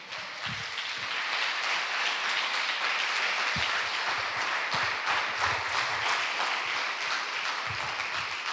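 Congregation at a church service applauding, a dense steady wash of clapping that fills the whole stretch at moderate distance, with a faint voice briefly underneath.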